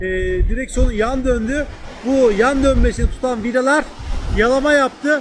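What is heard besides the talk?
No everyday noises stand out.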